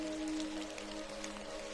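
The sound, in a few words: rain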